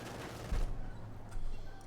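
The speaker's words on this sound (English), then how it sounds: "Shooting away there with its MG-34 mounted on top" An MG-34 machine gun mounted on a vehicle fires in a Company of Heroes 2 match, two short bursts of gunfire over a steady background of battle noise.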